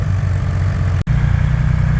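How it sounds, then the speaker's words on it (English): A motorcycle with factory exhaust idles at a car meet, giving a steady, close, low rumble with even pulsing that briefly cuts out for a moment midway before resuming. "let's over here and hear this bike's exhaust"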